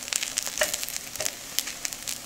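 A natto galette with egg fries crisp in a pan over high heat, giving a steady close sizzle with crackling pops and a few light scraping touches, without talk.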